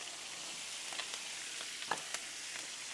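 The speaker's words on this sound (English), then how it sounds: "Let's get these bell peppers to going, along with our onions." Bell peppers and onions sizzle on a Blackstone griddle dressed with oil: a steady, soft hiss with scattered crackles and pops, close by and heard alone.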